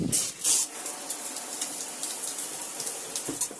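Water running from household taps and a shower while air is purged from the pipes, a steady hissing spray with brief sputtering bursts near the start and end, fairly close and alone.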